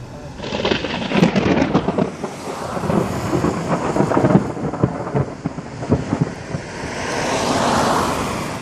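Thunder from a lightning storm over Erskine Park rolls and crashes loudly, with heavy rumbles that swell and fade alongside a broad wash of rain and wind.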